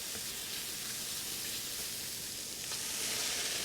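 Onions fry in a pan, making a constant close sizzle with a bright, crackling hiss that holds steady and swells slightly toward the end.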